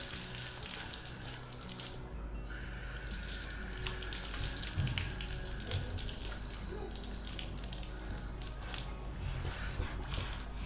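Running hose water splashes steadily over hands being rinsed outdoors while washing a horse's mane, a continuous close hiss of flowing water with no talk.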